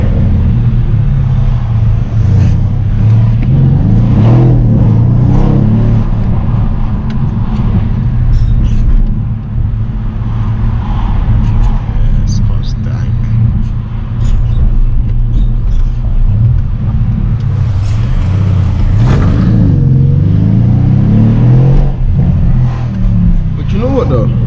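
Heavy, loud engine rumble from a Mercedes-AMG C63 S Edition 1 driven on London streets, swelling and easing as it accelerates, heard from inside the car with voices talking over it.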